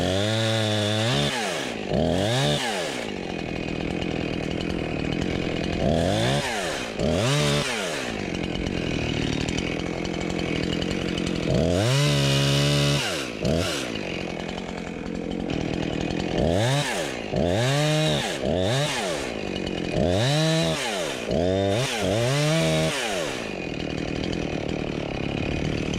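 Chainsaw cutting wood on a homestead, engine revving up and down in repeated bursts, loud and close throughout, with no talking.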